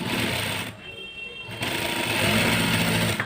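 A sewing machine runs a diagonal seam on palazzo trousers, its steady close whirring motor dropping off briefly partway through before picking back up at full speed.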